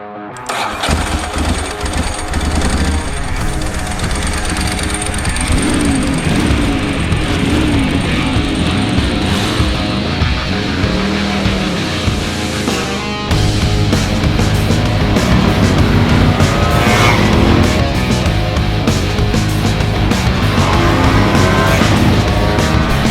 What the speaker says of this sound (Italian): siamo finiti nel 1994 in sella alla Ducati 916, una delle moto superbike più belle di sempre